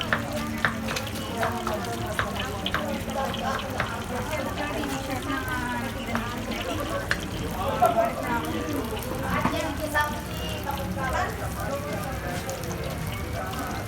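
Vigan empanada filling of chopped cabbage and garlic sizzling and frying steadily in a pan, a continuous crackling hiss with occasional stirring under background chatter.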